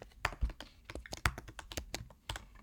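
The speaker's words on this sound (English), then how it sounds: "Let's go back into the program and type 10." Someone types on a computer keyboard nearby, a quick irregular run of soft clicking keystrokes, fairly quiet, with no voices.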